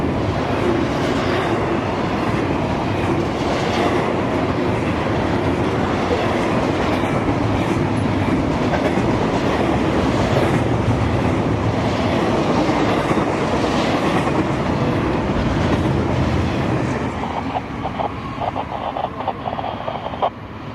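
A CSX freight train carrying Crowley containers rolls past for the whole stretch, loud and close, with steady rumbling and clickety-clack wheel noise that eases slightly near the end.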